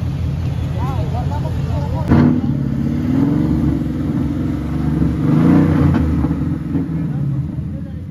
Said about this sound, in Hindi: गाड़ी रेडी है फुल सेक्सी गाड़ी है साउंड भी फुल आउट है